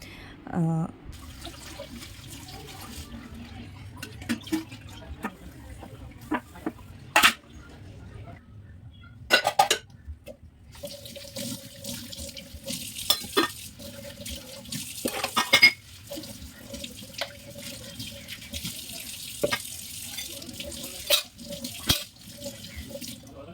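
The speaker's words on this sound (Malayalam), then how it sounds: "വേഗം ഞാൻ പാത്രം കഴുകാമെന്ന് വിചാരിക്കുകയാണ്" Dishes washed at a kitchen sink under running tap water, with intermittent splashing and flow broken by sharp clatters of pots and utensils, close by, with a voice heard faintly in the background.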